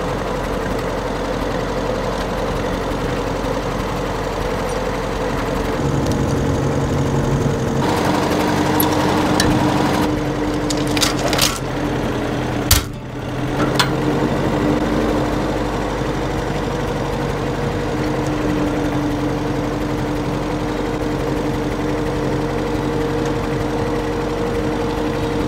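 A 50-year-old tractor's engine runs at a steady idle fitted with a three-point linkage post-pulling attachment outdoors, a continuous low chugging drone with a brief louder clunk midway and no talking.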